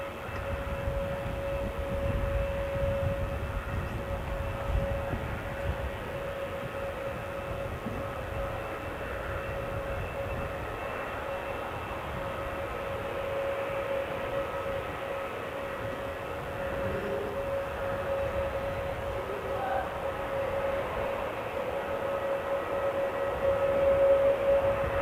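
An ATR turboprop in black livery approaching, a steady low droning rumble with a sustained tonal hum that grows slightly louder toward the end, heard at a distance over outdoor background noise.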